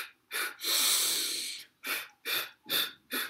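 A person does the rabbit breathing technique: one long nasal inhale followed by a rhythmic run of five quick, sharp breaths through the nose, close up with no talking.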